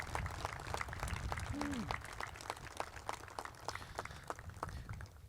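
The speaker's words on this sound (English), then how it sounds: "please join me in giving your parents, faculty, coaches, and our staff a round of applause" Applause at a Wabash College commencement ceremony rises as a sparse, distant patter of individual claps with a low crowd murmur underneath.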